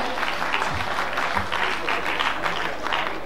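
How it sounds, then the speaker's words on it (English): Applause from an audience at a university film festival ceremony, a steady wash of many hands clapping that holds at an even level for a few seconds with no voices over it. "Can you please have a huge round of applause for sir?"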